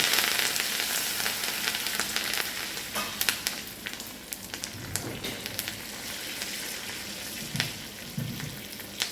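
Curry leaves sizzle and crackle in hot oil as a tempering for a tomato and raw mango roti chutney, a steady spattering hiss with sharp pops scattered throughout and faint stirring clinks.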